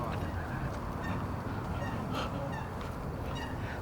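Geese honk loudly and repeatedly beside the river in Wapping, London, a steady chorus of waterfowl calls over outdoor ambience with no talking.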